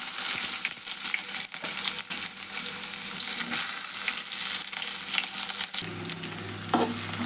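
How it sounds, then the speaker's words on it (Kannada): Chopped onions and curry leaves fry in oil in a pan with mustard seeds, giving a dense, continuous sizzle and crackle, loud and close, with stirring scrapes and no talking. "ಉಳ್ಳಾಗಡ್ಡೆ ಸ್ವಲ್ಪ ಕೆಂಪಾಗೊಂಡು ಕರಿಬೇಕ್ರಿ"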